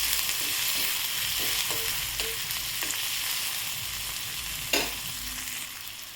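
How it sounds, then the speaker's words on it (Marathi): Bombil fry masala with onion and coriander sizzles steadily in a pan, with a spatula scraping and stirring through it in occasional clinks and taps, close and continuous. "त्यानंतर घालायची कोथिंबीर, आवडीनुसार घालायची। याला पण 2 मिनिट परतून घ्यायचं।"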